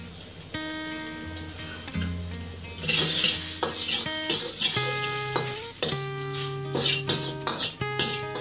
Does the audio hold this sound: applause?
no